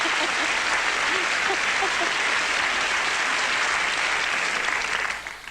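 A television studio audience applauds in sustained, dense clapping that carries loudly throughout, with a few voices audible beneath it, before tailing off at the end.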